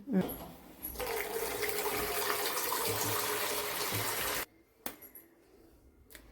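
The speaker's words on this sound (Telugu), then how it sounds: "స్వీట్ పొటాటో తీసుకొని వాష్ చేసుకుందాం" Water runs loudly and steadily from a tap while sweet potatoes are washed, then cuts off, leaving a few soft knocks and handling sounds.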